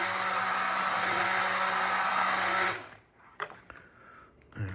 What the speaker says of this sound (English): blend up that butter and the egg